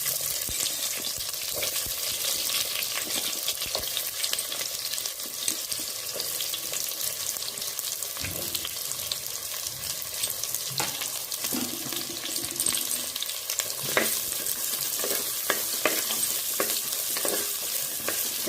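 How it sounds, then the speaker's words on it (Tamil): Onions frying in a pan for a chicken leg piece gravy, with a continuous sizzle and scattered scraping stir strokes throughout, close and fairly loud. "வெங்காயம் நல்லா வதங்கட்டும்."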